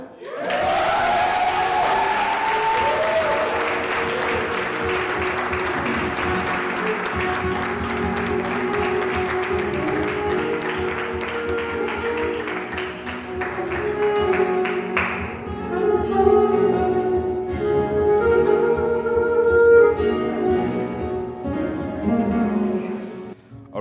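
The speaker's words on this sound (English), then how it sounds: "please help me give a warm round of applause to Grant Senzani" An audience claps for a speaker at an event, a dense sustained round of applause with some crowd noise that thins toward the end as music and voices rise.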